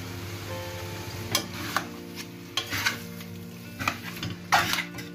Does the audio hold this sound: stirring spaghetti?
yes